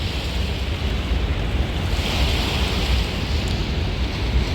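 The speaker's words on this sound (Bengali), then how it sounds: "ঢেউ দেখুন" Choppy river water near the Farakka bridge in winter, with fishing boats out on the water. Steady close waves wash and splash under continuous wind buffeting on the microphone, with no talking.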